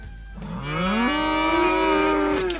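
A cow moos in the video game Agricultural Simulator Historical: one long, loud, drawn-out bellow that rises in pitch and holds steady for about two seconds, heard alone and up close.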